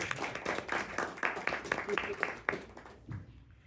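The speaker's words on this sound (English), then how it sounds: "So let's give him a nice round of applause." Brief round of clapping from a lecture audience honoring a 93-year-old regular attendee, a few seconds of scattered claps with speech-like murmur over it, fading out near the end.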